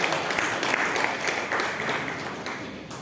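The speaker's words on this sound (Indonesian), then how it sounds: "Tepuk tangan untuk Tuhan Yesus" A church congregation claps at a Christmas service in Kediri, a dense, even patter of many hands filling the whole stretch at moderate loudness, without speech over it.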